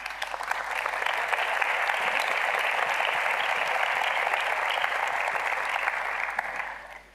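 An audience at an academic conference opening session applauds an award winner, a steady, dense round of clapping that holds evenly for several seconds before tapering off at the end, with no voices over it.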